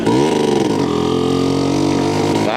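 A Vespa Special 90 scooter's small two-stroke engine revs loud and close, holding a steady buzzing drone with a slight rise at the very end, no voices over it.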